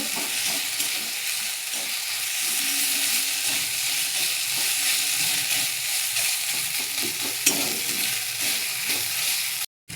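Ginger frying in a pan for aloo dum, a continuous loud sizzle with occasional stirring scrapes throughout, cut by a brief silence just before the end.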